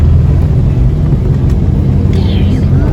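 A bus rides along a snaking road between Tam Coc and Cat Ba in Vietnam, with a loud, steady engine and road rumble heard from inside the cabin.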